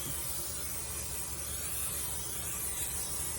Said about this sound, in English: I put me a little bit of oil in here. Let me see. I think I'm just going to spray it.